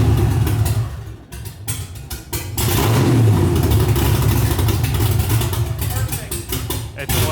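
An LS V8 swapped into a Mazda Miata idles with a rough, lumpy note, then revs up loudly and holds there. The engine is close and loud, with people talking over it.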